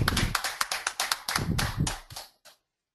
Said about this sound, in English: Give a big round of applause for Nikunj Gupta.